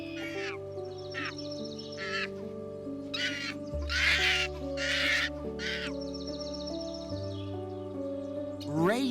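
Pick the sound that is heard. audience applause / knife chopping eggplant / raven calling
raven calling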